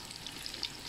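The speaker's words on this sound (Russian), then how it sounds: "Грудиночка поджаривается, ее слегка, не надо сильно, она поджаривается у меня." Pork brisket fries gently in a pan, giving off a faint, steady sizzle with small crackling pops over less than a second.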